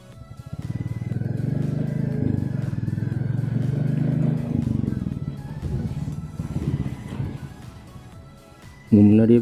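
A Royal Enfield Bullet 350cc motorcycle engine-braking down a steep mountain gap road, with a steady low rumbling drone that holds for most of the ride, then a sharper louder burst at the end.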